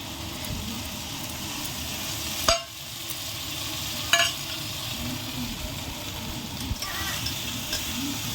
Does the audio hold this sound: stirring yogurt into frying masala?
yes